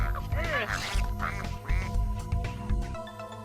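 A duck quacks repeatedly in quick nasal bursts as a story sound effect, close and fairly loud, layered over a droning musical background.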